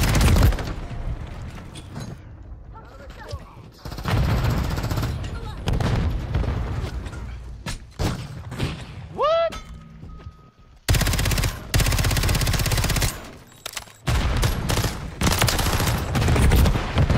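Heavy gunfire in Call of Duty Modern Warfare 3 on a small multiplayer map, with long loud automatic bursts broken by short pauses, sharp booms and chaotic battle noise, and a voice talking between volleys.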